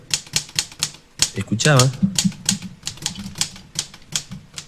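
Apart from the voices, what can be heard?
typewriter typing sound effect in a narrated paranormal story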